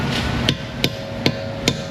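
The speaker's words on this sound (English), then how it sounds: "I'll hammer it on." A hammer strikes a socket to drive it onto a corroded lug nut on a car wheel: four sharp metallic blows at a steady rhythm, close and clear over a constant background hum.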